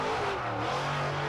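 A 1000-horsepower rally car engine revs loudly and continuously, a steady droning roar with a slowly shifting pitch and no pauses.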